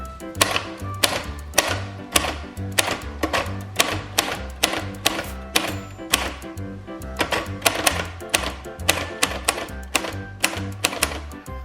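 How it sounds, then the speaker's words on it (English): Rapid mechanical clacking of a Royal Futura manual typewriter, keystrokes in irregular bursts with sharp strikes over a low thumping rhythm, close and steady throughout. "Let's go ahead and just try to type out a couple of things here."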